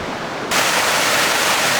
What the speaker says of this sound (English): I can see water flowing over the rocks at the top and then down over these rocks.